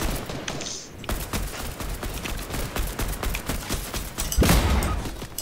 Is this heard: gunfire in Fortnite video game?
yes